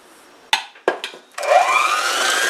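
A few bumps and knocks, then an electric mixer starts up and whirs loud and steady while it beats cobbler batter of flour, baking powder and salt, close by with no talking.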